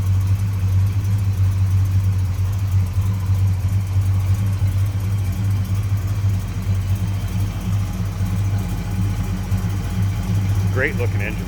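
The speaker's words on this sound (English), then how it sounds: "Great looking engine, a good sounding car too." A 1970 Plymouth Road Runner with Edelbrock Performer RPM intake, aluminum heads and headers idles with a deep, steady rumble close by, running continuously.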